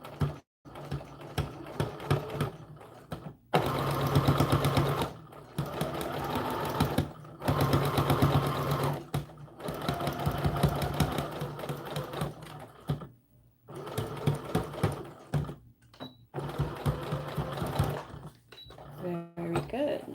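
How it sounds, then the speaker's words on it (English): A sewing machine stitches a seam along ribbon on a doll dress, running in several long bursts separated by short pauses, close and steady. "we're going to do a seam all the way along that also"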